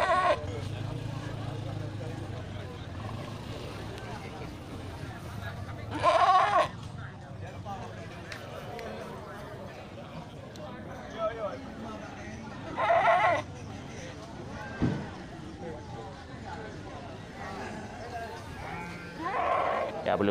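Billy goats and other livestock at an animal market ahead of Eid al-Adha, with a few loud bleats rising at intervals over a constant murmur of crowd and people talking nearby.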